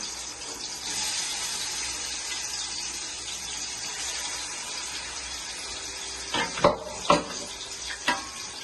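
Marinated chicken sizzles in a cooking pot with a steady, low frying hiss, followed near the end by a few sharp clanks and scrapes of stirring.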